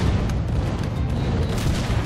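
Cannon fire from a pirate-seas stage of the Skylanders Spyro's Adventure video game: continuous dense low booming and rumbling blasts with repeated thuds throughout, loud and steady, with no talking.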